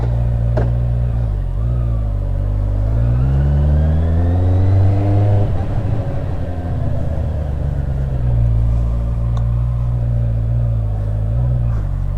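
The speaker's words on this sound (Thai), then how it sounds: "เดี๋ยวลองเบิ้ลให้ฟังนิดนึงเนาะ" A motorcycle with an SC Project exhaust idles with a steady low rumble, then revs up once in a rising sweep and settles back to idle, fairly close and fairly muffled.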